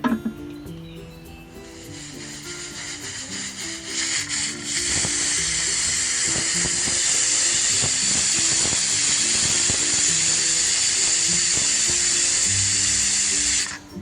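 A pressure cooker holding chicken and Kashmiri collard greens (haak) lets out a loud, continuous steam hiss that builds in the first few seconds and then holds steady and close, with faint clicks and rattles underneath.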